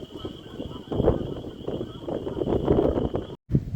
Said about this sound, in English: But hopefully this wind lets up and it starts precipitating a little bit more